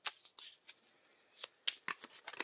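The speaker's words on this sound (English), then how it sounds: "We'll shuffle in the deck." A deck of Marvel Champions cards being shuffled, Spider-Man versus Rhino setup: a run of close, crisp riffling bursts with short pauses between them, no voices.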